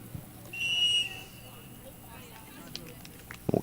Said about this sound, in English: We'll get our first whistle.